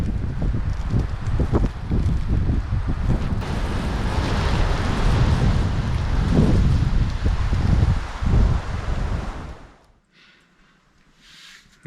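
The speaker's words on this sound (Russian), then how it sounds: "А тут бац, и какой-то снежный шторм начался." Sudden snowstorm sweeping through a forest, heard from a dugout shelter: a loud, broad roar of wind gusting and rushing through the trees for several seconds, then abruptly cutting off to near silence.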